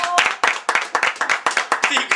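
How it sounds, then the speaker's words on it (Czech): A single person claps hands about a dozen times in a quick, steady rhythm, loud and close, with voices talking over the claps. "Já bych zatleskal."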